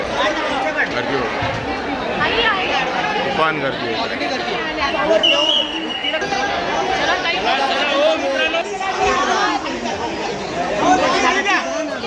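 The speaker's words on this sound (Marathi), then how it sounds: "दुपारची अडीच आणि गर्दी बघा ते तूफान" A dense crowd of devotees packs the Tembhi Naka Devi temple for darshan in the early afternoon, a loud, continuous babble of many voices close around, with one voice talking nearby.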